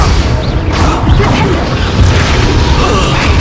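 Confringo blasting spell exploding in Hogwarts Legacy, a loud, dense, rumbling boom with crashing debris that fills the whole stretch without pause.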